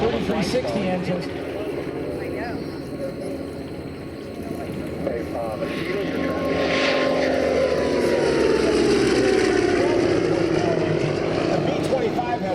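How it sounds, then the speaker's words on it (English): A North American B-25 twin-engine bomber, built in 1945 with short exhaust stacks, roars past at an air show. Its propeller drone swells steadily louder and stays strong, with someone talking over the engines. "the B-25 was the first twin-engine aircraft that North American aviation ever built"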